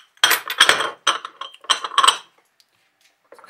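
Small glass jewelry pieces handled and knocked together, giving a quick run of bright, close clinks and chinks in short clustered bursts, then a pause and a faint final tap.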